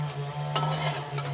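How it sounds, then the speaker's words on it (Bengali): Drumstick flower chops fry in hot white oil in a kadai and are turned over, with a steady low sizzle, one sharp utensil clink and faint stirring scrapes. "উল্টে পাল্টে ভালো করে ভেজে নেবো।"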